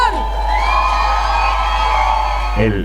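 Concert crowd cheering and whooping for an Argentine band at its farewell show, a loud sustained roar of voices with shouts throughout, ending abruptly.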